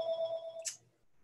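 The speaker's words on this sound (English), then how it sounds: "Is that my phone?" A mobile phone rings at a poetry reading, a steady electronic ringtone with clear tonal notes that stops abruptly after about half a second of sound, followed by a short burst of noise and then quiet.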